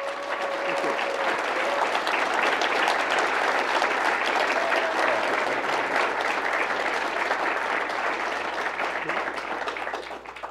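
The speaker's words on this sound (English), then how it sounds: "can we just give a round of applause to these two gentlemen for doing this?" A large audience applauds two debaters, Rep. Ro Khanna and Vivek Ramaswamy, at a debate event; dense, sustained clapping fills the full ten seconds at a steady, loud level before tapering slightly at the end.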